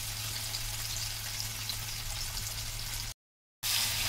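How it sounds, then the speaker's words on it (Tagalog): Plenty of onions sauté in a pan as a continuous, even sizzling hiss, close and moderately loud, briefly cutting out near the end before resuming. "lagay tayo ng ayan, sibuyas na marami. Igisa lang natin."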